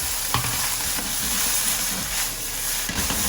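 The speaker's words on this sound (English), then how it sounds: "Then a quick stir fry." Water spinach stems fry in hot oil in a wok, giving a loud, continuous close sizzle with occasional stirring scrapes and no speech.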